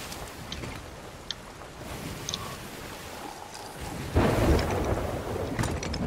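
A stormy sea in the game Sea of Thieves brings a constant rumble of wind, rain and thunder, swelling louder in the later seconds, with faint scattered creaks over the roar.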